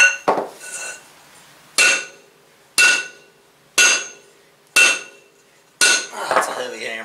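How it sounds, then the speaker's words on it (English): A heavy 12-pound sledgehammer strikes metal on a mini dozer, six loud ringing clangs at roughly one-second intervals, each decaying with a metallic ring. "You guys take a 12-pound sledge and start swinging her."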